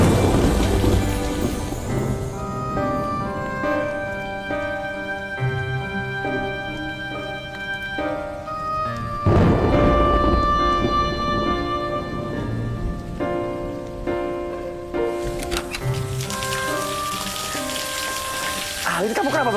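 Steady rain pours down beneath a swelling rumble of thunder, loud and continuous, with a sustained musical score playing over the storm throughout.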